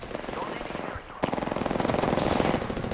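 Rapid automatic gunfire in Apex Legends, a steady stream of sharp, close shots after a short pause, with game noise underneath.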